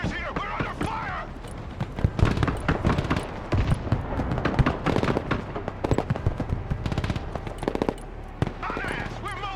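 Sustained gunfire from the Broken Arrow war video game, with dense crackling shots and explosions throughout while radio-style voices talk over the battle.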